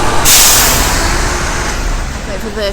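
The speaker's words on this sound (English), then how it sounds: "wait for the lorry to pass" A lorry passing close by on a town street, opening with a loud air-brake hiss, then a heavy engine and road rumble that slowly fades.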